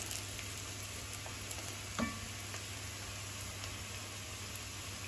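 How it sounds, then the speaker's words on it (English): Minced garlic cloves frying with vegetables in a pot for a venison stew: a soft continuous sizzle and hiss with one brief clink of a stirring utensil, quiet and close, no talking. "we just want to stir it up amongst the veg for about a minute"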